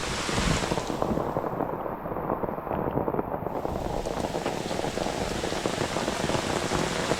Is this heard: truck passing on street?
no